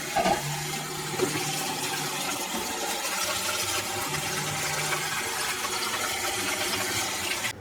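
Water pours steadily out of the drip tray of a DeLonghi Autentica coffee machine, a continuous splashing rush lasting several seconds with no talking.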